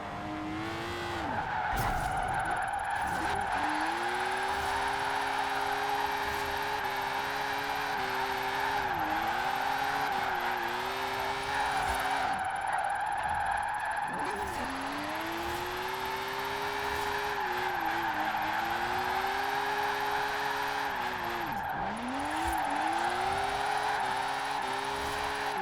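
Sustained engine roar with rising and falling revs and continuous tyre screech from a car drifting in the Forza Horizon 4 racing game, loud and steady throughout with no talking.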